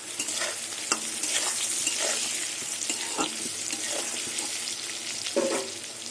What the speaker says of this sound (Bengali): পটল আর বেগুনগুলো লাল লাল করে ভেজে নেব।